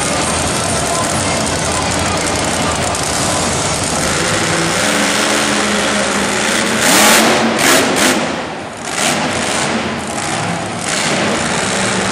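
A wheelie monster truck roars at an arena show, its engine revving loud and sustained over constant crowd and venue noise, with surges and dips in the final seconds.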